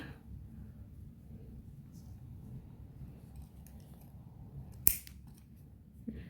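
Scissors cutting crochet yarn while making a coaster: one crisp close snip, then a second softer one, over a quiet room hum.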